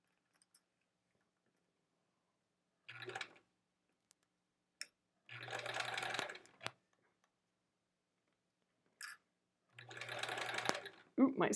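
A sewing machine stitches a quilt seam in three separate bursts of rapid, close whirring, each followed by quiet pauses, with a few faint clicks between the runs.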